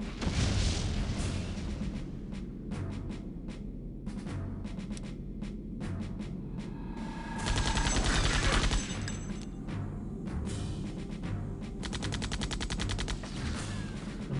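Rapid gunfire bursts and grenade explosions from the 1999 video game Septerra Core, loud and dense, repeating in clusters with short gaps through a steady battle soundtrack.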